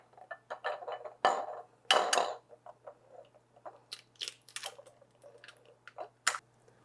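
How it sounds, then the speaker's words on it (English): Four eggs cracked one after another for a strawberry crunch poke cake made from box mix, giving sharp, close taps and shell cracks with small wet splats and clinks of a bowl between them, heard alone. "We're going to crack in 4 eggs."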